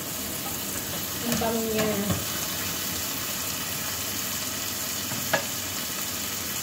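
Prawns and vegetables fry in a pan for a simple home-cooked dish, a steady sizzle with occasional stirring scrapes and a brief clink, while a voice speaks once softly over the cooking.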